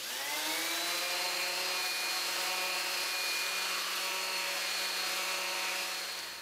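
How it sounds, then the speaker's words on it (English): Wood for a screwdriver rack is sanded by hand with sandpaper, a steady, unbroken whirring hiss that stays close and even throughout. "I'm going to give it a quick sand just to smooth it off"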